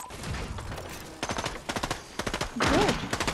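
Rapid bursts of turret fire in the Fortnite video game crackle in several close, loud clusters, with a voice briefly audible near the end.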